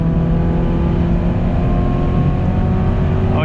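Onboard engine roar from a modified 2014 Subaru BRZ lapping a race track, loud and sustained with a steady droning tone throughout, rising slightly at the very end.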